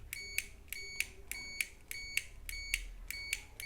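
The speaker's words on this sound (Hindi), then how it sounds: "तो अब हम इसका बटन दबाएंगे तो देखिए ये बीप की आवाज़" An electronic tester used on a car battery and foot pedal problem beeps in a steady repeating pattern, six short high beeps evenly spaced over a faint background hum.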